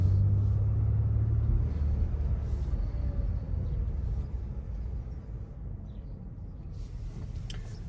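A 2022 Genesis G70 3.3L twin-turbo AWD engine drones steadily with a deep low rumble, heard from inside while driving in regular automatic mode, holding an even pace throughout.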